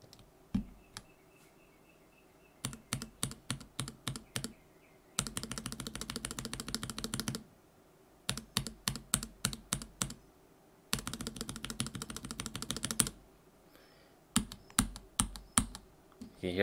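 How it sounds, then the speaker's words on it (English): Mechanical keyboard with Zealios V2 switches typed on in close bursts of crisp clacks, some stretches fast and continuous, others slower, with the top housing rattling on each keystroke and short quiet gaps between runs. "You can hear that top housing rattle"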